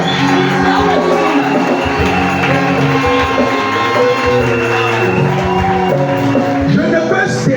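A church congregation at an anointing service roars with cheers, whoops and shouts over music, sustained and loud throughout with no break.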